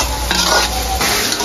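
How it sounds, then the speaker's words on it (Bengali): Spice paste and softened tomato stir-fried in a pan for a fish bhuna, with steady sizzling and scraping stir strokes across a short burst, no talking. "মশলাটা অনেকক্ষণ কষিয়ে নিয়েছি"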